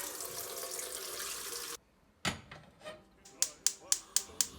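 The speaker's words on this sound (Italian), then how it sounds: "Mettiamo a bollire l'acqua." Tap water runs steadily into a cooking pot, filling it for boiling pasta water for spaghetti carbonara. The flow is loud and continuous, then cuts off abruptly, followed by a few scattered clinks and a run of sharp metallic taps.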